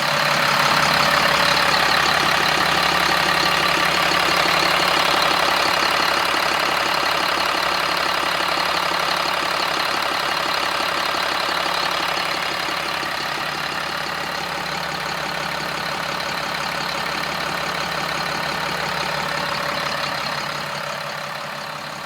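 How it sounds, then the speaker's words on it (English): The 7.2 liter diesel engine of a 2007 Sterling L7500 garbage truck idles steadily and loudly up close, a continuous rough rumble with knocking texture that eases slightly near the end, no talking. "The engine sounds good."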